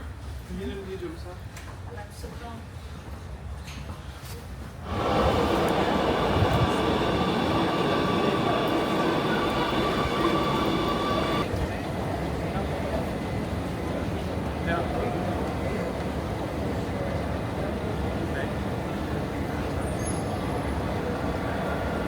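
A train ride in Amsterdam, heard from inside the carriage: a sudden loud rolling rumble surges in and then settles to a steady, slightly quieter clatter and hum that continues throughout.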